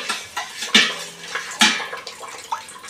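Dye being stirred into water in a vessel while dyeing cotton cloth, heard as splashy swishes and clinking against the container in a few distinct strokes, close and moderately loud, with no talking.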